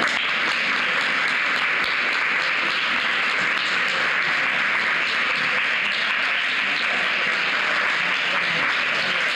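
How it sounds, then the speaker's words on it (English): Steady applause from a large crowd at a prizewinners ceremony, dense and continuous clapping that holds at an even level for the whole stretch with no voices. "Big round of applause."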